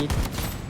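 A short burst of rapid gunfire in the video game Blood Strike, a few punchy shots clustered in under a second, loud and close.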